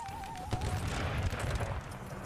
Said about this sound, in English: We're pushing cannon fire onto this Grenadier unit